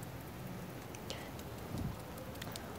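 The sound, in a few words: rain falling outdoors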